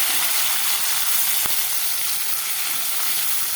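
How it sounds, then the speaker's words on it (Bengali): Prawns sizzle in hot oil in a kadai (wok), a loud, steady frying hiss that continues throughout, broken only by a single sharp tap partway through. "কড়াইতে তেল দিয়ে দিলাম, এখন আমি চিংড়ি মাছটা ভেজে নিব।"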